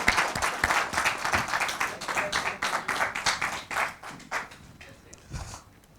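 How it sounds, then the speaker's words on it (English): A live audience claps in a sustained round of applause to welcome C.K. Venkataraman onto the stage at a Tanishq talk event, steady dense clapping that thins out toward the end. "with a huge round of applause, let's welcome Mr. C.K. Venkataraman on stage"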